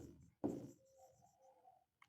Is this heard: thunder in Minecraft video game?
no